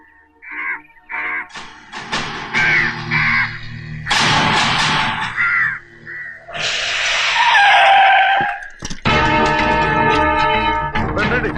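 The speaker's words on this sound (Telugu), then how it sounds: "ఈ ఏరియాలో ఒక్క కాకి కూడా ఉండాలని వీలేదు" Crows caw loudly and repeatedly in a Telugu film comedy scene, harsh calls coming in short bursts and overlapping with other shrill sounds and noise throughout.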